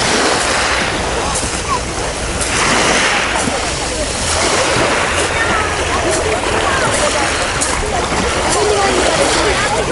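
Steady rushing wash of sea waves breaking on a pebbly shore at Taman Bay, continuous and fairly loud, with swells rising and falling.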